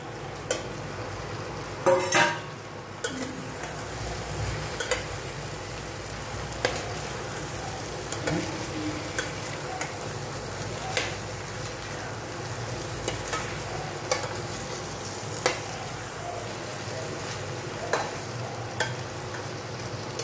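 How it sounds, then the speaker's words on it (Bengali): Eggs and potatoes sizzle steadily in a pan of gravy for egg biryani, with stirring scrapes and a few clinks of a utensil against the pan throughout. "এরপর আমি ডিম আলুগুলো যেগুলো ভেজে রেখেছিলাম সেগুলো এর মধ্যে দিয়ে আর একটু ফ্রাই করে নিলাম।"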